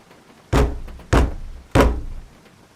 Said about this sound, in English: The knocking was loud enough to rattle the door.